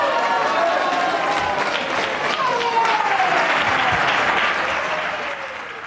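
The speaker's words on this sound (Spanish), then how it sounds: "Así aplauden en la sede alterna del Senado a Miguel Ángel Yunes Márquez" Crowd applause in an alternate Senate chamber for senator Miguel Ángel Yunes Márquez, loud sustained clapping with murmuring voices and shouts mixed in, tapering slightly toward the end.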